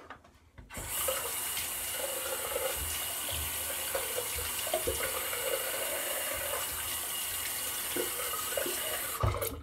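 Running tap water rinses a face after a shave with a Steel Boreal razor and tallow soap, a steady close hiss of flowing water that lasts almost the whole time with faint splashes on top.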